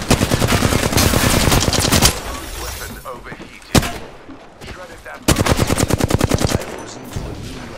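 Rapid automatic gunfire from smart bullets in a video game, two loud sustained bursts of dense repeated shots with a single sharp blast between them, while players talk over the action.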